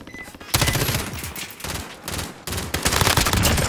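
Rapid automatic gunfire crackles in Call of Duty, loud and close, coming in dense bursts separated by short gaps.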